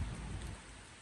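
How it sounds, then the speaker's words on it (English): Rain patter from a rainy morning outdoors beside a tree, a soft steady hiss with a low rumble at the start, faint and continuous, no voices. "it still sounds like it's raining"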